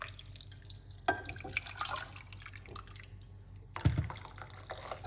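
Hot water from a kettle is poured into a large mug, a faint liquid splashing and trickling in uneven bursts with small knocks, quiet and close.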